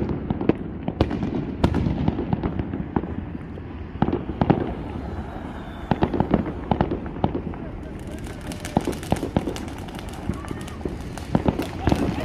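Fireworks set off by a family in a parking lot on the Fourth of July in east Las Vegas, a series of sharp pops and bangs, some close and some farther off, over a steady crowd murmur with people talking throughout.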